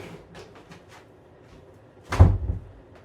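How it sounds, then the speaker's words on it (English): An office door swings shut with a single loud thump and brief rattle, after a stretch of faint rustling movement nearby. "I will close my office door."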